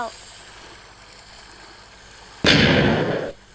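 A quiet background hum in Minecraft is cut by one sudden loud explosion, a blast that lasts under a second before dropping off.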